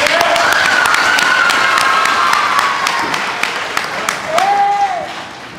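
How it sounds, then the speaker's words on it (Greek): An audience applauds steadily and loudly at a school event, with dense sustained clapping and a few whistle-like tones rising over it. "Ένα χειροκρότημα για την Χαρά."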